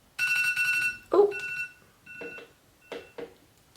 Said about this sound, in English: I have alarms on for everything